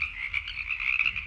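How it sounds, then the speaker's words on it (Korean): A frog gives a continuous rattling croak, fast pulses repeating evenly and fairly close, with nothing else heard. "바로 개구리 소리예요."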